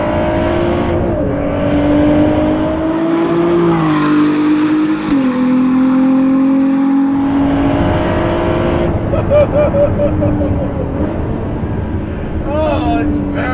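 A 2018 Ford GT engine on overrun roars loudly from the cabin, its pitch rising and falling with throttle, with crackles as it backs off and someone talking over it.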